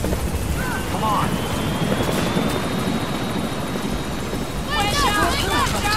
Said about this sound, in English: Our helicopter has arrived.